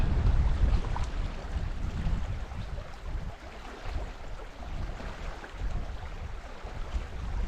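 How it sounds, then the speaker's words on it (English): Gusty wind buffets the microphone outdoors on a fishing outing near water, a close, rumbling roar that swells and eases in uneven gusts, with no talk. "Oh, here comes some wind."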